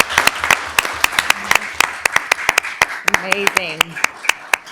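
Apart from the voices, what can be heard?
audience applause for a student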